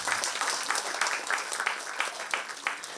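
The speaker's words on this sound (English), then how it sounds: "Let's take a moment and appreciate all of them with a round of applause" Audience applause for the accompanying musicians at a Bharatanatyam arangetram dance performance, a steady wash of many hands clapping throughout with no one speaking.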